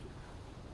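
Waves wash around a ship moored in a harbour, a steady broadband rush of water and wind noise with no distinct breaks and no voices.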